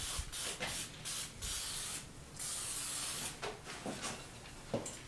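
Bursts of hissing aerosol spray onto a steel target before welding, several short sprays in close succession with brief pauses between, near and fairly loud.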